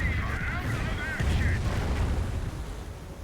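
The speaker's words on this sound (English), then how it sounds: "Fly-through rocket barrage running on in," Rocket barrage explosions pound the battlefield in Company of Heroes, rolling low booms and rumble layered continuously over several seconds, loud and close, with a voice talking over the din.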